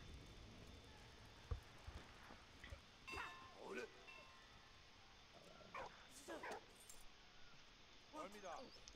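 A dog in the World War I game Valiant Hearts: The Great War gives several short barks, yips and whimpers. They come in scattered bursts over a busy game soundscape that includes jangling keys.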